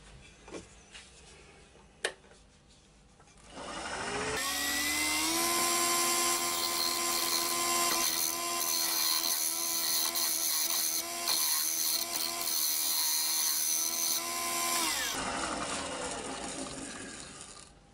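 Wood lathe skimming an oak platter with epoxy and metal powder inlays: a loud, steady whirring cut with a sustained tone that starts after a few seconds of quiet and runs about eleven seconds before winding down.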